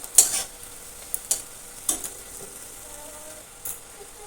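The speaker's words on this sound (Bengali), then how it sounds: "বড়াগুলোকে বেশ লাল লাল করে ভেজে নিতে হবে।" Green banana kofta fritters for a Bengali kanch kolar kofta curry deep-frying in oil, giving a soft, steady sizzle with a few sharp pops and light clinks scattered through.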